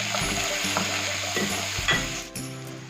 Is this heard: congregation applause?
no